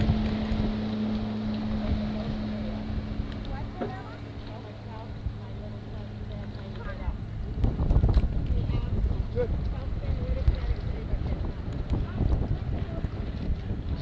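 A motorboat towing a water skier over waves during a lake outing in Muskoka, its engine droning steadily under wind buffeting the microphone, with the hull slapping harder through chop midway.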